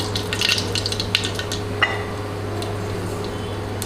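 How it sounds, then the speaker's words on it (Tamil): Mustard seeds crackle and sizzle in hot sesame oil in a pan for fish curry, a steady frying hiss dotted with quick popping bursts that are busiest early on and then thin out to sparse pops over a low hum. "எண்ணெய் காஞ்சிருச்சு. கடுகு போட்டுக்கலாம்."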